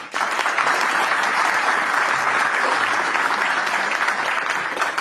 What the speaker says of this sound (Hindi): अपने आप के लिए जोरदार ताली बजा दीजिए